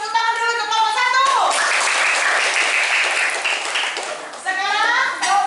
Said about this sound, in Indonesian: Buat tepuk tangan dulu untuk kelompok 1.